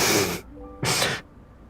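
A sneeze comes in two sharp, breathy bursts, one right after the other, close and fairly loud, with brief quiet between them and no talk.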